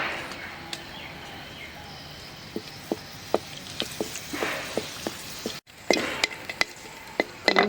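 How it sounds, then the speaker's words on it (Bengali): Two dried red chillies fry in hot oil for a tempering, producing a soft sizzle dotted with sharp, scattered pops and crackles, growing a little busier toward the end. "দুইটা শুকনো মরিচ ছেড়ে দিলাম।"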